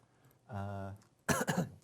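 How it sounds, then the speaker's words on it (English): A short hum of voice, a pause, then a single sharp cough burst close to the microphone. "I'm sorry, I just coughed."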